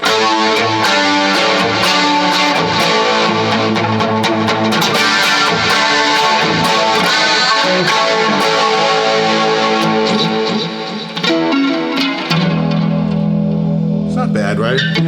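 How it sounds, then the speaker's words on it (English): Electric guitar through a Boss Katana Air amp with chorus, reverb and delay: loud, continuous played chords and notes with a shimmering, echoing wash, then a sustained ringing tone near the end. "I'm hearing chorus. I'm hearing reverb."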